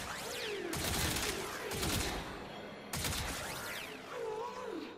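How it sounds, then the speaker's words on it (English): Rapid gunfire from the Tenet Tetra in Warframe, sounding in dense loud bursts with short gaps between them, and sci-fi whooshing sweeps in between. "I can just gun them down with viral."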